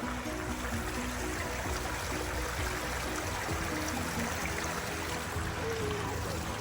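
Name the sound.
stream of water flowing in a forest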